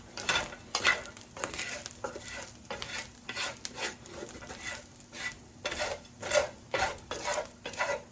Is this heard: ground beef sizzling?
yes